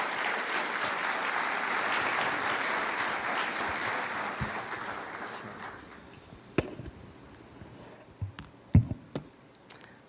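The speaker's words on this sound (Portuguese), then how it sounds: "Vamos recebê-lo com uma forte salva de palmas, em nome de Jesus." Congregation in a São Paulo church applauds loudly for several seconds, the dense clapping fading out around the midpoint into a quiet room with a few scattered claps and knocks near the end.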